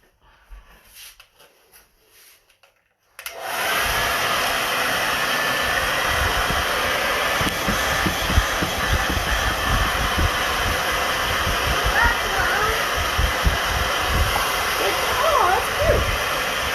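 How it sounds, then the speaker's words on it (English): A blow dryer roars on after a few seconds of quiet rustling and runs steadily and loudly to the end, drying a papier-mache Earth craft, with faint voices underneath. "I'm gonna blow dry this again"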